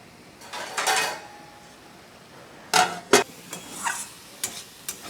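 A lid goes onto a home cooking pot of cabbage with prawns and potatoes, giving a couple of sharp metallic clinks and knocks at close range, followed by a few lighter taps and scrapes.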